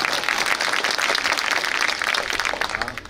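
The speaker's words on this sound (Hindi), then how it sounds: "ताली बजाने जी करे तो जोर में बजाओ" A crowd at a Congress-opposition public rally in Ratangarh breaks into loud, dense applause, sustained clapping that fills the space and tapers slightly at the end.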